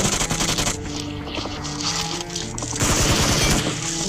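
Rapid bursts of automatic gunfire crackle in a PUBG Mobile battle, dense overlapping shots that thin out mid-clip and then swell again loudly toward the end, with no voices.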